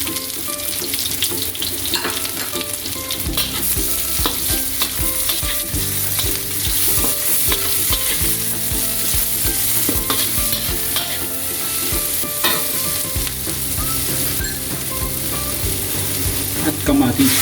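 Garlic and onion sizzle steadily in hot oil in a pan as the base for chicken afritada, with frequent scraping stir strokes, close and continuous throughout.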